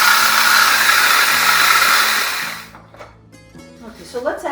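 Electric grinder whirring loudly and steadily as mustard seeds are ground for homemade mustard, then cutting off midway to leave quiet room noise and faint clatter.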